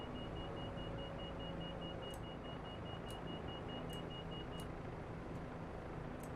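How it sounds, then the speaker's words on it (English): A warning tone beeps repeatedly in a Bell 407 helicopter in Microsoft Flight Simulator, a thin rapid pulsing over a steady cabin hum with faint periodic clicks, then the beeping stops partway through. "Let's shut the battery off so we can stop hearing that beeping."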